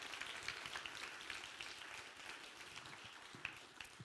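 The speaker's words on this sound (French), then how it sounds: "On peut applaudir le Seigneur." A church congregation applauds in a dense, steady patter of many hands, sustained and moderately distant throughout, with a few sharper claps standing out.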